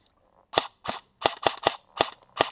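An Elite Force airsoft gun with a mid cap magazine, freshly rinsed of mud during a torture test, fires seven sharp, loud, close shots at an uneven pace after a short quiet lead-in.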